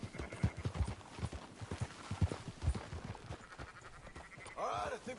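Horse hooves clop in a quick, steady rhythm while riding in Red Dead Redemption 2, close and prominent. Near the end comes a louder burst that could be a whinny, with faint voices in the background.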